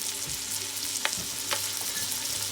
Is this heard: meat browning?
yes